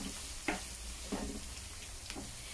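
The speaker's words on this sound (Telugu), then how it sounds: "ఇవి బాగా వేగాలి, మనకి ఇది వేగటానికి టైం పడుతుంది." Sliced onions and green chillies frying in plenty of hot oil for a stuffed brinjal curry, a faint steady sizzle with a few soft stirring scrapes at regular intervals.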